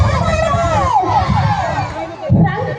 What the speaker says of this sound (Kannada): ಹೊಡೀರಿ ಚಪ್ಪಾಳೆ.